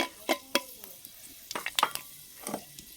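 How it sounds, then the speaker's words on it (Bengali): Dried red chillies, panch phoron and a bay leaf hit hot oil for a mixed vegetable dish, giving a low sizzle broken by a few sharp clatters of stirring, fairly quiet and close. "এরপর এর মধ্যে দুটো শুকনো লঙ্কা, দুটো পাঁচফোড়ন, একটা তেজপাতা"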